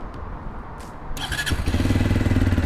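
A Barton Blade R 125cc motorcycle starts up: a short whine of the starter, then the single-cylinder engine catches and settles into a steady, throbbing idle close by.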